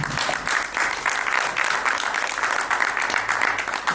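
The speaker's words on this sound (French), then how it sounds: "Est-ce qu'on peut applaudir pour lui, s'il vous plaît?" Steady applause from a press conference audience fills the space, a dense patter of many hands clapping continuously at a fairly loud level.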